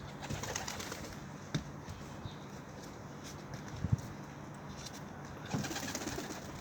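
Pigeons coo softly in a busy outdoor spot, with scattered wing flutters and a few sharp taps rising from a steady rustling background.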